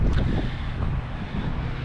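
Strong wind gusts from an Ohio Valley windstorm roar and buffet the microphone as a dense, steady rumble with slight surges, close and loud, with no voices heard.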